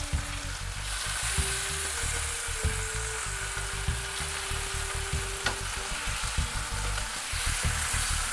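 Fish fillets frying in a pan for Baja fish tacos, a loud, steady close-up sizzle with crackling spatters and a faint low hum underneath, with no talking.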